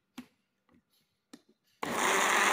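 An electric blender switches on and grinds cincau leaves with about 250 ml of warm water, a loud, steady, close-up whir that follows a few light clicks and taps.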